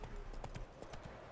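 Horse hooves clip-clop in a quick, steady gait while riding in The Witcher 3 game, faint and somewhat distant, with soft thuds repeating throughout.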